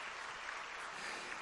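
A church congregation applauds during a worship service, a steady, broad wash of clapping from many hands that holds at an even level without pause.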